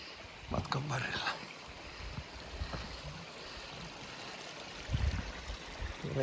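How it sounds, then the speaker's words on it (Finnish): A small stream babbles through a little canyon on the Kevo Canyon trail in Lapland, a faint, steady watery rush with a few brief, soft sounds on top. "Vesi solisee kivasti."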